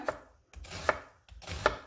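Three sharp knife strokes slice a red onion on a cutting board at a steady pace, each followed by a short scraping slide, close up with no talking.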